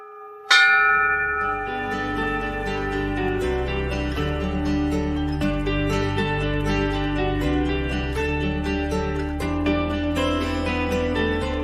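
Loud cow bells ring after one strong opening strike, their tones layering and overlapping in a continuous resonant peal.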